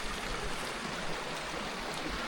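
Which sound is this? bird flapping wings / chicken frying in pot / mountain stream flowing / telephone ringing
mountain stream flowing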